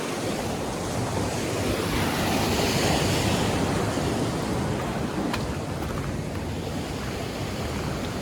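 Sea waves breaking on a beach, a continuous loud roar of surf with wind noise buffeting the microphone, steady throughout with no voices.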